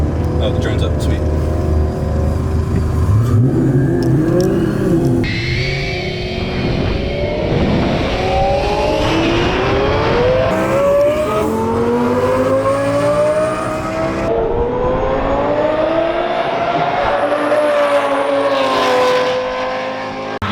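A twin-turbo Lamborghini Gallardo roll racing, its exhaust screaming loud and close as the engine revs up through the gears, with a second Gallardo in the run and voices talking over the roar.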